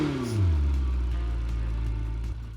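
A Lamborghini Temerario in the video game Driving Empire starts up with a short rising rev that quickly settles into a low, steady idle, close and moderately loud.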